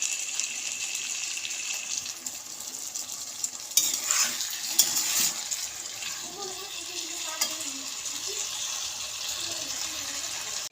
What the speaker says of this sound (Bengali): এই দেখো আলুর তরকারিটা বসিয়ে দিয়েছি, এই যে হচ্ছে, হালকা হালকা ঝোল বানাবো